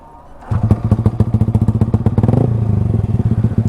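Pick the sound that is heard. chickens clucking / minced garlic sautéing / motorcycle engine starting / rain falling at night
motorcycle engine starting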